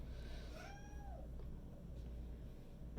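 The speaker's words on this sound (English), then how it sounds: "So now, of course, the other cat wants back in." A cat meows once from a little way off, a single rising-and-falling call over a steady low background hum, with no other sounds around it.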